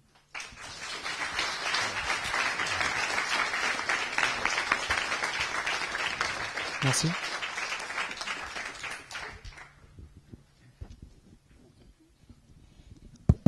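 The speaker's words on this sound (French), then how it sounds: "On peut les applaudir, peut-être." Audience applause in a French conference hall, dense steady clapping for about nine seconds that fades out, followed by scattered thumps and a brief spoken word.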